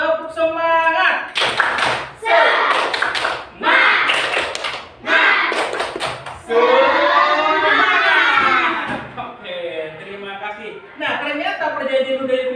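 A classroom does a rhythmic spirit clap, with short bursts of patterned clapping and thumps alternating with students' loud chanted voices, all close and energetic.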